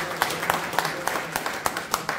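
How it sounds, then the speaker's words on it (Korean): A small crowd claps together at a year-end general meeting and farewell party, a thin patter of hands with some sharper individual claps over a low murmur of room noise. "큰 박수로 마무리하겠습니다"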